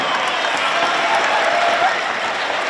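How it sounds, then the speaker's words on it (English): Audience applause for a high school show choir at a school pep rally, a steady, dense wash of clapping from a large crowd lasting the whole stretch with faint cheering underneath. "let's hear another round of applause for Mr. Young and our Somerset Berkeley Show Choir"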